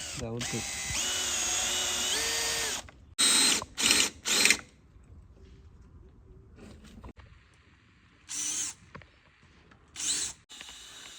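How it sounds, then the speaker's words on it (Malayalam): Power tools and hand tools work on a Pulsar 220 motorcycle in a workshop while a clamp is fitted. A long whirring drill burst comes first, then several short drill pulses and clicks, with quieter gaps and faint talk between them. "ഇനി നമുക്ക് ക്ലാമ്പ് അടിച്ച് സെറ്റ് ചെയ്യണം."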